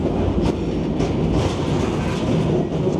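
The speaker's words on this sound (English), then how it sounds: "The train kept going." Slow freight train rolling at about five miles an hour, its wagons rattling and clacking steadily in a continuous rhythmic rumble heard close, as from aboard the train, with no talking.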